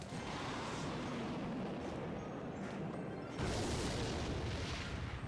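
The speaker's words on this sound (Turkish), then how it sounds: "Şöyle roket atalım." Rocket spell explosion in a Clash Royale match, a loud continuous rumbling blast that swells into a heavier roar about two thirds of the way through, with no talk.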